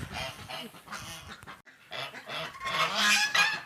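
Several domestic geese honk loudly and repeatedly, overlapping harsh calls close by, with a brief pause before a noisier burst of honking.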